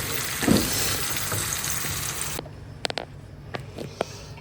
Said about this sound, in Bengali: চাল কুমড়া ভালো করে ভুনা দেওয়া করছি ফ্রাই করে নিচ্ছি